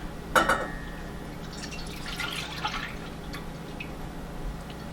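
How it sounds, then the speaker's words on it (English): Milk poured into a small saucepan to start a béchamel sauce: a quick splash and drip early on, then a soft, faint trickle of liquid, quiet and with no talking. "I've got just a small little saucepan here, and I'm just going to add in my milk"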